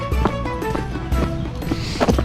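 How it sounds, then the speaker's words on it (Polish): Grazing horses close by, hooves thudding and shifting in slow, uneven steps against outdoor rural background noise. "Tam konie się pasą."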